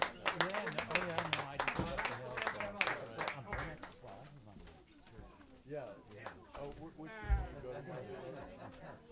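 Audience clapping for a live jazz quartet at a music venue, scattered claps that build and then fade, mixed with chatter and voices talking over it.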